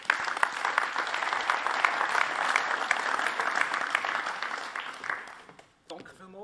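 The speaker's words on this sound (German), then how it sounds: "Ihr Applaus" Audience applause at the Swiss Entrepreneur Award evening, a loud, dense, sustained clatter of many hands that dies away near the end, followed by a brief voice.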